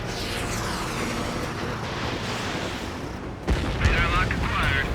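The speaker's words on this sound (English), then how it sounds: "Missile launched." A missile launches in Ace Combat 7, a sudden whooshing burst that rises out of a steady roar of jet engines and gunfire-like rumble near the end, with radio chatter faintly mixed in.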